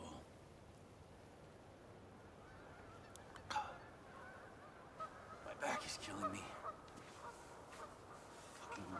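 Geese honk repeatedly in the distance outdoors in a wet, rainy wilderness, scattered calls faint against background noise, while a man mutters nearby.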